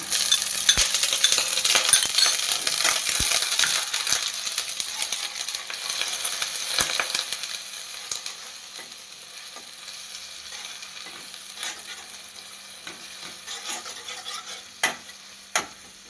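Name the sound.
beaten yogurt added to pan, stirring and frying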